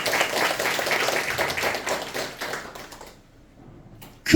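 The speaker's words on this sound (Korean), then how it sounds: "박수 한번 칩시다" Church congregation clapping together in a steady burst of applause that fades out near the end, followed by near silence.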